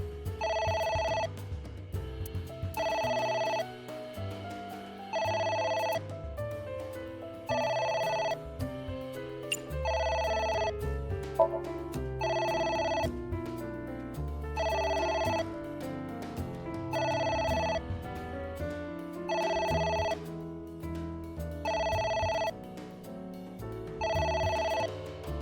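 A telephone rings in the video game AI: The Somnium Files, repeating in evenly spaced bursts that are loud and steady over low background game music.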